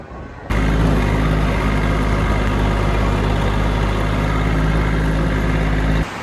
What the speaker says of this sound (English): I'm on a compact tractor.